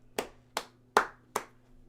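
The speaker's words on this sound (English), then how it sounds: "what the hell are you clapping for?" Four sharp hand claps in an even, unhurried rhythm, fairly close and moderately loud, each one ringing briefly before a low steady hum underneath.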